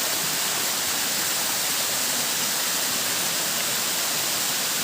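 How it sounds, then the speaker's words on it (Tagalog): Bisibis Falls waterfall roars as a steady, dense, even rush of falling water, loud and continuous from start to finish with no voices. "Bicibis Falls"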